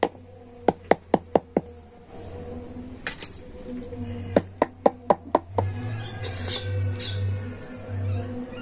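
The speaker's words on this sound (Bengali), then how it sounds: "আর এবার আমি এই বাটিটা ঠুকে ব্যাটারটা কিন্তু সেট করে নেব।" A bowl of cake batter is rapped against a hard surface to settle it, giving quick bursts of sharp, close knocks: about five in a rapid row, a pause, then another cluster, over a low steady hum.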